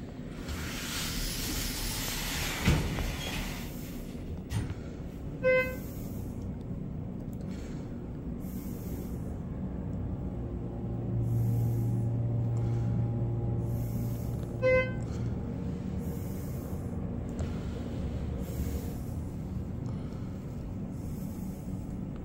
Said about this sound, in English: This lift is rougher than a typical 330A lift, which gives it more character.